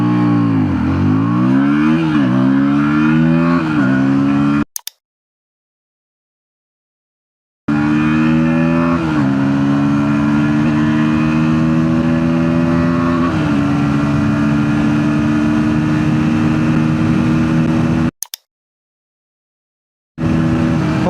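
A KTM Duke 160 motorcycle accelerates hard from standstill toward 100 km/h, its engine climbing loudly through each gear with rising whines and short dips at the shifts, close and dominant, with two brief cuts to silence.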